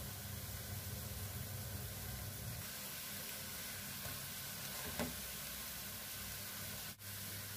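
Hash browns, already flipped, frying gently on low heat in a pan, giving a steady, even sizzle with a faint soft knock near the middle.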